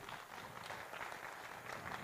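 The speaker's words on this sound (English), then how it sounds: "A big round of applause for him." Applause at the inaugural ceremony of Big Cine Expo 2016, a steady wash of hand clapping from the gathered audience that holds evenly across the whole moment, with no voices standing out above it.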